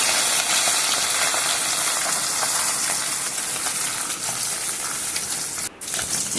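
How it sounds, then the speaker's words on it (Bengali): Bata fish fry in hot oil in a pan, giving a loud, constant crackling sizzle close by that runs throughout, with one brief break near the end and no talk. "মাছগুলো আমি উল্টে আবার অপর দিকটা আমি ভালো করে ভেজে নেব"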